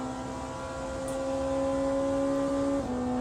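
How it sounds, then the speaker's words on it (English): In a racing video game, a Porsche race car engine holds a steady, loud, tonal drone, with its pitch dropping slightly near the end and no talk over it. "this engine is so loud"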